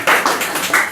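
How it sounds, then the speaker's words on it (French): Audience applause greeting an evangelist at a church gathering, a short loud burst of clapping hands close by, uneven and dense for under a second. "Acclamons pour l'évangéliste"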